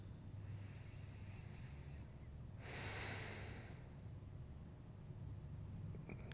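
A slow, full exhale during a seated yoga twist swells as a soft, breathy rush in the middle of the stretch, standing out from a quiet, steady low hum.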